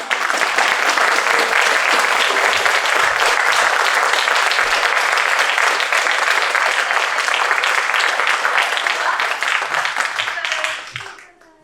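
An audience at a 2024 Macbeth performance applauds the cast in sustained, dense clapping that holds strongly for about ten seconds before tapering off at the end.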